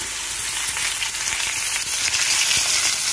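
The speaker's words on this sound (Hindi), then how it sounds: "अब मैं इसमें आम डाल दे रही हूँ" Mangoes tipped into a hot pan with dried chillies for sweet mango pickle, giving a loud, steady, close sizzle and frying hiss throughout, with faint stirring clinks.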